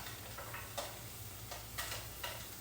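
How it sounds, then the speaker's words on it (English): Vegetables for pilaf sizzle faintly in a hot skillet, a soft continuous crackle broken by a few light ticks and stirring scrapes, quiet and close, with no voices. "So I can hear my skillet getting ready."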